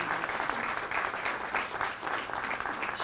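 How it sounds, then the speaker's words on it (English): A crowd at a State of the City address applauds steadily for the city manager, a dense continuous wash of many hands clapping at even loudness throughout. "I want to give her a round of applause for her leadership and dedication to this"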